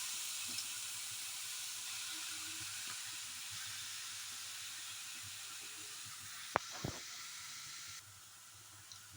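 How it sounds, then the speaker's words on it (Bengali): Grated carrots frying in ghee in a frying pan for carrot halwa give a steady, quiet hiss and sizzle throughout, with a couple of brief knocks near the end. "এবার এই ঘিয়ের মধ্যে আমি এই গ্রেট করা গাজরগুলো দিয়ে দেবো, দিয়ে একটু ভালো করে ভেজে নেব।"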